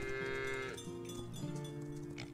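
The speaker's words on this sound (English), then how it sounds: "Moo cows." Cows moo on a farm in the game Farm Together: two overlapping drawn-out lowing calls, fairly quiet and close, with no voices.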